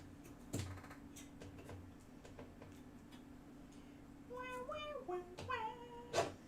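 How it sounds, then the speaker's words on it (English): A cat meows a few times near the end, short rising cries over a quiet background of faint clicks and taps. "We're gonna have that cat sound stuck in my head for the rest of the day"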